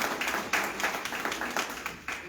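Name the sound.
audience applause at a candidates forum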